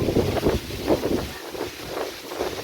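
Strong outdoor wind gusts buffet the microphone beside a sacred neem tree on a roadside stop between Thiruvananthapuram and Peikulam, a continuous rumbling roar rising and falling in waves, with no talking.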